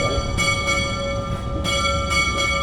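Church bells ringing in a full general peal for the Ave Maria toll on the eve of the feast of Saint Peter the Apostle, sustained loud ringing tones with repeated strikes overlapping in a steady rhythm.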